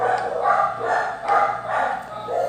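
Several dogs bark repeatedly in uneven bursts, fairly close and loud, with a low background hum throughout.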